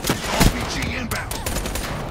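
Gunfire in the video game Black Ops 3, a dense burst of shots and a loud crack near the start, continuing as a busy barrage through the rest of the moment.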